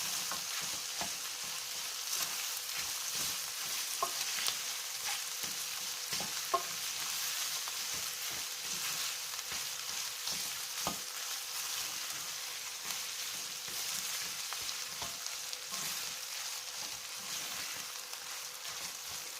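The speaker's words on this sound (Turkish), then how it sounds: "Şimdi güzel onları da karıştıracağım." Tomato and pepper paste being stirred in a pan, a soft continuous sizzle with scattered light scrapes and taps of the spoon, quiet and without speech.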